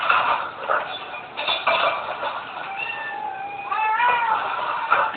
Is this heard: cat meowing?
yes